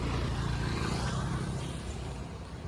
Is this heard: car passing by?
yes